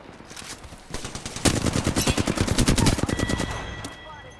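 Automatic gunfire in the Apex Legends video game, a dense run of rapid rhythmic shots swelling loud midway and easing off toward the end.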